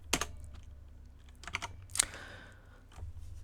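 Bursts of clicking keystrokes on a computer keyboard, close and fairly quiet, in short irregular clusters with pauses between them and no talking.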